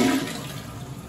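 A Briggs toilet flushing in a home bathroom, a brief close rush of water that starts loud and gradually eases off, with no voices over it.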